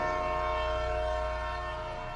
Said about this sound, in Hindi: ट्रेन ने हॉर्न दिया और चल पड़ी।